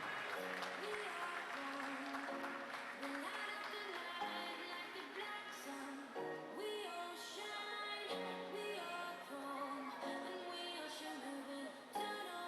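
Audience applause for the medal podium at a youth swimming meet, a steady, full wash of clapping lasting throughout with a tonal background layered underneath.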